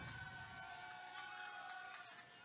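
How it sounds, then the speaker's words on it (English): Crowd noise at a high school baseball playoff game between Sumrall and Greene County, with a steady roar of fans swelling through the clip and occasional sharp accents, heard without any talk. "Greene County crowd getting loud."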